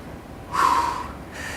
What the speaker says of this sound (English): You exhale as you push up